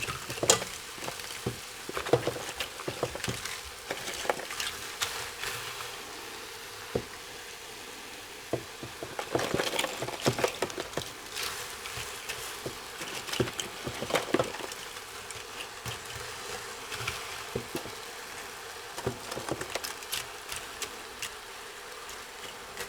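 Onions and seafood shells sizzle faintly in a pot for seafood stock, a soft steady crackle with scattered louder pops and stirring clatters.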